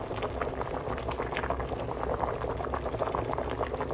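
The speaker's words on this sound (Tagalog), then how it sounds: "Oops, kumukulo na." Steady bubbling of pork sinigang soup with guava at a rolling boil in a pot, a dense continuous crackle and gurgle close by with no voices.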